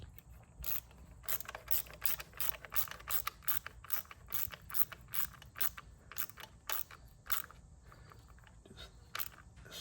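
A 1/4 inch drive ratchet tightens a bolt on a Ford Focus intake cam position sensor, with close crisp clicking bursts repeating in an irregular back-and-forth rhythm over quiet background, no talking.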